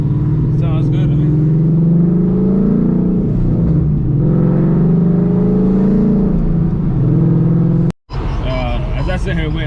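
A Ford Mustang with newly installed headers, mid pipe and resonators rumbles loudly and revs up and down close by, with a brief dropout near the end before the engine noise resumes.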